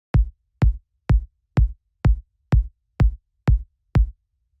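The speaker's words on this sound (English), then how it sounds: "The first sound that we have here is the kick, which sounds like this." A deep, punchy kick drum sample for minimal house plays alone, ten evenly spaced hits at a steady tempo, each a sharp click over a short, booming low thump with silence between.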